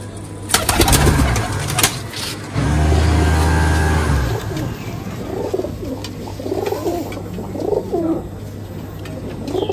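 Pakistani kamagar pigeons cooing in soft repeated rolling phrases in the second half, preceded by louder mechanical engine-like humming and clattering bursts.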